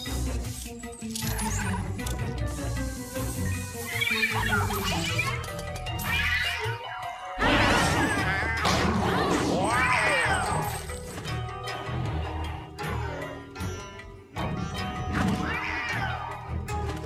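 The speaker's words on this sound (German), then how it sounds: "ganz neuer Ton hier von der Katze" A cat creature in Luigi's Mansion 3 yowls and cries amid busy game audio of crashes, thuds and music. The sounds stay loud and continuous throughout.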